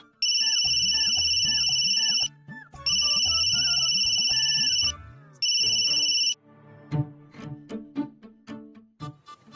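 A bright electronic phone ringtone plays loudly in three repeated bursts, then cuts off, leaving scattered clatter and faint voices.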